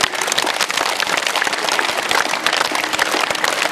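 A crowd of audience members claps hands together in a dense, continuous patter that stays evenly loud for about four seconds, with no voices over it.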